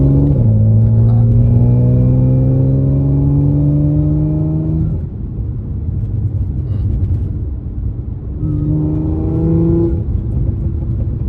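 A B8.5 Audi S5 stage 2+ revs loudly with rising pitch under acceleration, drops off, then revs again, heard close up from inside with a rough, crackling, popping exhaust underneath.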